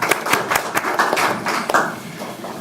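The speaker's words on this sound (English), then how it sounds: "Please give her a warm round of applause." A short burst of audience applause at an exercise oncology symposium, with distinct hand claps at close range.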